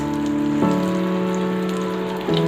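Semolina-dipped snake gourd patties fry in oil with a steady, close crackling sizzle that holds even throughout, with no voices.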